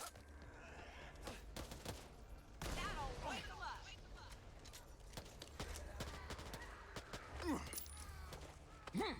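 Gunfire from Metal Gear Solid: Peace Walker, with a burst of shots near the start followed by sustained overlapping fusillade and scattered impacts through the whole stretch, set against game sound effects.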